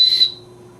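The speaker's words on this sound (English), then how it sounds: "And I have a whistle." Survival whistle from a bug-out bag blown in one short, shrill blast, loud and close, then cut off to a quiet hum.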